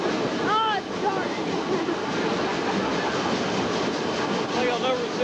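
A Willamette steam locomotive on the Mt Rainier Scenic Railroad running on its first run of 2009, with a steady rumbling roll of the train, short whistle-like tones near the start and end, and voices talking faintly underneath.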